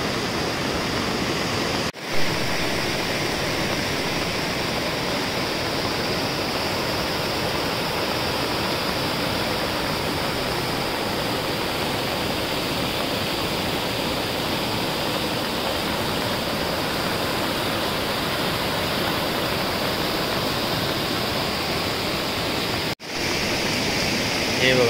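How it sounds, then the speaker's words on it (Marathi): A rain-swollen stream in Devgad, Sindhudurg, flooded after heavy Konkan downpours, roars with a dense, steady rushing wash of water that stays loud and unbroken throughout, apart from two very brief dropouts. "हे बघा तुडुंब भरून वाहतोय वाळ."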